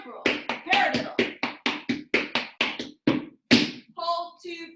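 A tap dancer works through cramp rolls and paradiddle steps, about a dozen crisp, quick shoe taps in an uneven rhythm, close and clear, followed by a brief voiced sound.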